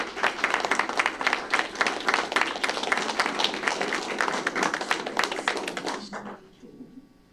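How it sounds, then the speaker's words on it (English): An audience at a Board of Education meeting applauds for about six seconds, a dense burst of many hands clapping that then quickly dies away. "Let's give her a round of applause."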